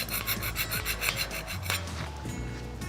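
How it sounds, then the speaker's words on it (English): A stiff wire brush scrubs flaking paint and rust off a metal gate in quick, harsh, rhythmic back-and-forth rasping strokes up close. The strokes then slow and fade. "using a stiff wire brush, go over the whole gate, removing as much of the flaking paint and rusty surface as possible."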